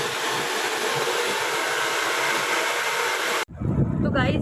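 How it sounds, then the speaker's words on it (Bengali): Hair dryer blowing on hair, a loud steady rushing whoosh that cuts off abruptly near the end, leaving quieter room sound. "তো এখন ড্রায়ার হচ্ছে"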